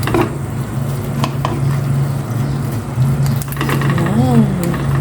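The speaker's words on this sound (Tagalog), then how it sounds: "Ilagay ko na itong pritong yellow pin para may sarsa itong pritong yellow pin, hindi lang prito." Fried yellowfin fish stirred in a pan with sauce, a steady close sizzle with scraping stir sounds, under background noise and a low hum.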